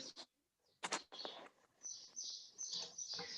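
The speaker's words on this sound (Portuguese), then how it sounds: "Pensa todos os dias a gente escutar esses pássaros Tem um cantando." Birds singing outdoors, with several short, bright chirps and tweets in quick clusters, fairly close and clear against a quiet background.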